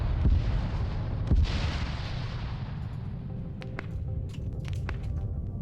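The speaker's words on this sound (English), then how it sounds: "I think the tank is also doing some long-range shots here." Tank cannon firing long-range shots in the military game Arma 3, heard as a couple of heavy booms followed by a rumbling roar that slowly fades, with faint scattered pops in the distance.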